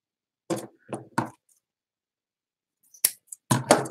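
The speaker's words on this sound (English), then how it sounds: "And then you would just cut it into two strips." Scissors cut through folded paper to make strips, a few short crisp snips in a quick cluster, a pause, then several more close snips.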